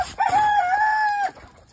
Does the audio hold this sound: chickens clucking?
yes